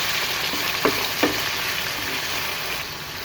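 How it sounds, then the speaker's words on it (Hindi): Marinated chicken frying in 2 to 3 tablespoons of oil in a pan, a steady close sizzle with a couple of brief scraping stirs, no talking. "इसमें ये मैरिनेट किया हुआ चिकन ऐड कर देंगे। अब हम इसको हिला लेंगे।"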